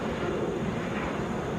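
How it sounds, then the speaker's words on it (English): Mitsubishi CRJ 900LR regional jet of Delta Connection at Atlanta International Airport, a steady, fairly loud engine roar and rush, continuous and unchanging, with no talk. "Delta Connection, Endeavor Air, Flight 5520 headed to Shreveport on a Mitsubishi CRJ 900LR"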